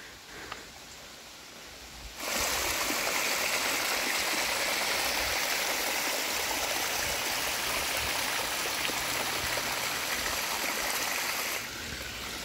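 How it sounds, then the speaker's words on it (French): Steady rushing water of a small waterfall on a stream, continuous and close, fading in after a quieter start and easing slightly at the end. "on arrive à une petite cascade, toute petite parce que c'est vraiment un petit ruisseau là qui coule"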